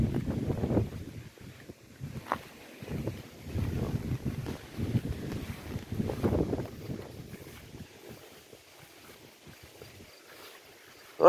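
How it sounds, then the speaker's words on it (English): Strong wind gusts blow across an outdoor garden, rumbling and buffeting the microphone in uneven surges before easing toward the end, with no voices. "with the wind blowing that hard"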